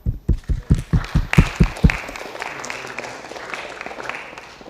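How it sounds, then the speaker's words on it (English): An audience at a high school rocketry recognition event claps, opening with a burst of sharp, loud, evenly spaced claps that thin into a softer, scattered patter of applause. "You guys deserve a round of applause."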